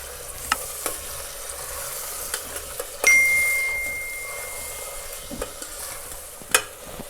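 A spoon stirs three chopped tomatoes into spiced masala in a pan for Punjabi paneer curry, with repeated scraping strokes over a low sizzle and one bright metallic ding partway through.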